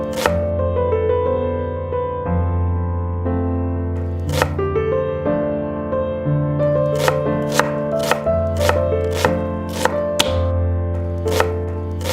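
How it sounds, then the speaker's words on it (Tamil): A knife chopping raw liver and spleen by hand on a board, single firm strikes at first, then a quicker run of regular thuds near the end, close and loud over a steady low hum. "கல்லீரலும் மண்ணீரலும் அரை கிலோ வாங்கிட்டு வந்திருக்கோம் இப்போ நம்மளே சாப் பண்ணி எடுத்துக்கலாம்"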